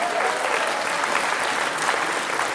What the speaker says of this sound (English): Everybody, big round of applause for Kyle.